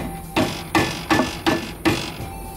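Hammer striking the wire wheels on a Cadillac to snug them, five solid evenly spaced blows in quick succession.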